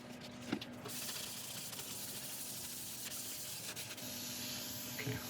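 Sealer is sprayed onto a turned wooden burl in a steady, soft hiss lasting several seconds, close and fairly quiet, with a faint tap near the start and no talking.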